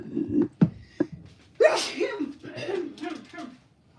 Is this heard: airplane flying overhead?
no